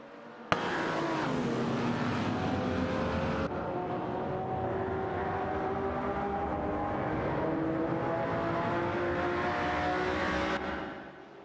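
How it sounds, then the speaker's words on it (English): Racing cars speeding away in a simulated AI race, a sustained engine roar with rising, revving pitch that starts abruptly, holds loud and steady, then cuts off near the end. "Racing car dashing away."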